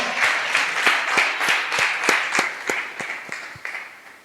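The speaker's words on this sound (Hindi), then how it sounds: "क्यों ना जोरदार तालियां बजाए प्रभु यीशु मसीह के लिए" Congregation at a Hindi church sermon clapping in a steady rhythmic beat, roughly three claps per second, moderately loud and close, tapering slightly toward the end with no talk over it.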